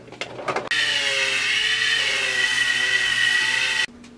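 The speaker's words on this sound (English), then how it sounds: "there's a little bit of corrosion in here, so I want to take the Dremel to that" Dremel rotary tool buffing corrosion off a clone 372XP chainsaw, a loud close high-pitched whine that runs steadily for about three seconds after a few short scraping touches.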